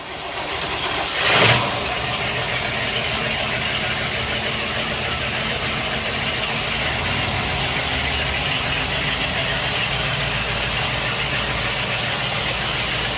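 The motors of a used Sea Ray 330 Sundancer boat catch with a short burst as they start, then settle into a steady, quiet, low idle that continues evenly throughout.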